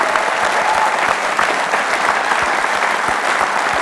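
Enthusiastic applause from an audience of about 350 people, a dense, continuous wash of clapping at steady loudness with no break.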